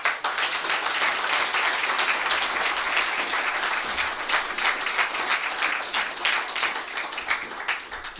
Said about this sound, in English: Let's give one more round of applause for all our speakers tonight.